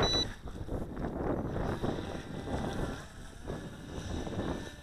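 A Skytech H101 RC speed boat runs on water, its small motor buzzing steadily at a moderate distance under wind noise and splashing.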